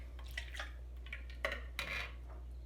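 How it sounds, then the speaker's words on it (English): Butter, brown sugar and white sugar stirred together in a bowl for cookie dough, giving a few soft clinks and scrapes of a utensil against the bowl with quiet pauses between strokes. "Stir together your butter,"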